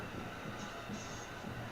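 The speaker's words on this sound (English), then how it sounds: "So there is Amtrak today proceeding eastbound through downtown Ottumwa." Amtrak California Zephyr passenger train, seven cars, passing eastbound through downtown Ottumwa, a steady low rumble and rolling wheel noise at moderate distance, continuous and even throughout without talk.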